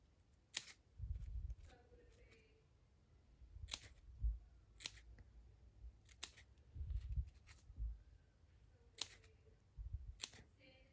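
Scissors snip fringe into paper for layered craft flowers, a series of crisp, close cutting clicks and crunches in irregular bursts, quiet and without talk.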